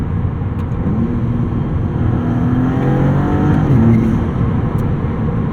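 A 2022 Maserati MC20's V6 engine pulls hard under acceleration on a backroad, a loud sustained growl that climbs steadily in pitch with faint wind noise, heard from close by with no talking.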